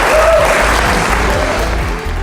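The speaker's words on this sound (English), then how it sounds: "Give yourselves a round of applause." A crowd claps and cheers steadily in a large room, a dense wash of applause with low rhythmic thumps underneath.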